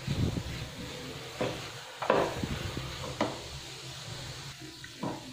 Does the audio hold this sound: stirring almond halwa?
yes